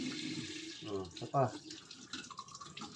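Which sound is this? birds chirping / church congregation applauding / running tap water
running tap water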